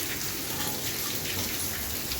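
Heavy rain falls steadily and densely as a continuous loud hiss of drops on surfaces, with no break and no voices.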